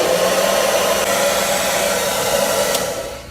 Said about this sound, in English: you turn your hair dryer, and you warm it up for like 30 seconds